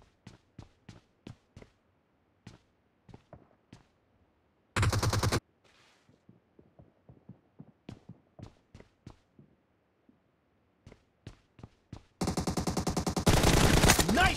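PUBG video game gunfire: rapid bursts of sharp single shots and short automatic volleys, crisp and close, separated by quiet gaps, with a couple of louder dense bursts.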